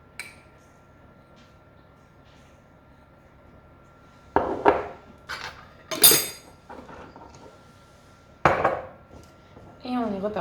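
A spoon stirs and scrapes an oat bran horse treat mixture with turmeric in a bowl, giving a few sharp clinking, scraping bursts separated by quiet pauses.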